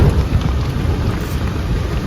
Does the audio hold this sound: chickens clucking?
no